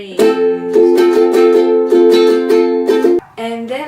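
Ukulele strummed in steady, bright repeated chords, loud and close, with a brief break before a final chord change.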